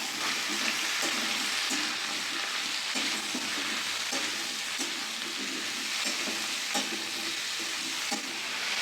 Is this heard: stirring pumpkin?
yes